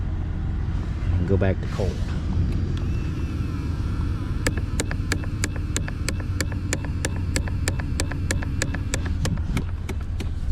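A faulty heater control valve motor with a bad internal gear in a 1999–2002 Toyota 4Runner clicks in a fast, regular train for several seconds over a steady blower hum, with someone speaking briefly before it starts.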